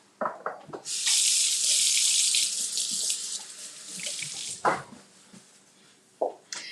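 Hands being washed under a running kitchen tap during a live cooking demo, a steady loud rush of water for several seconds with brief splashes and clatter before and after.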